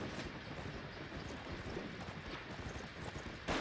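A horse's hooves clip-clop steadily in a quiet, even rhythm in a video game, sitting low and somewhat distant under a noisy background until a sudden louder sound at the very end.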